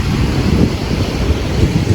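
Strong sea waves break on a beach in a continuous low roar, buffeted by wind against the microphone, close and loud throughout.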